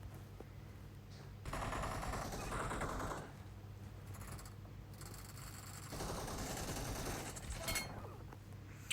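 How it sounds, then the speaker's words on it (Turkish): Bursts of automatic gunfire in the video game PUBG come in two rapid rattling volleys separated by quieter mechanical clicking, moderately loud and without voices. "Baksanıza cesete falan sıkıyorum."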